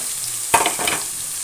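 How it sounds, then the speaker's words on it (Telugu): Chopped onion hits hot oil in a pan with a sudden loud crackling burst. It settles at once into a softer, continuous sizzle. "ఉల్లిపాయ వేసుకుని దోరగా వేయించుకోవాలి"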